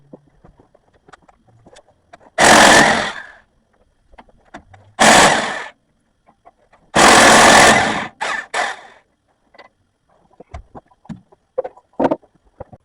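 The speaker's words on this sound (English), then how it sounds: "take the bolts out of this differential, out of this center piece, and get that out" Bolts coming out of a big truck's rear differential center section: three or four loud, rattling power-tool bursts of about a second each, separated by quiet clinks and small metallic handling noises.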